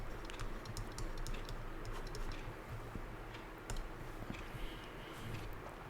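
Quiet, close typing on a computer keyboard while writing code, a steady patter of key clicks with occasional louder taps, no voices.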